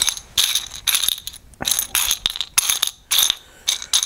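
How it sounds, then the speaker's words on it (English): A Midway Pac-Man mini arcade joystick harness being screwed down with two screws, giving close, bursty ratcheting and scraping clicks in uneven spurts with short pauses between. "the only thing left really is to screw the harness down"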